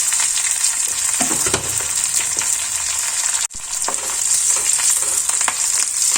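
Shallots and curry leaves sizzle steadily in hot oil for a tempering, a loud, continuous frying hiss with stirring scrapes, briefly cutting out midway before resuming.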